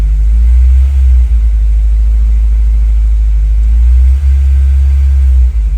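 Honda S2000 exhaust drone held near 2000 RPM, a steady loud low-pitched rumble from inside the car with a slight dip in the middle and no talking.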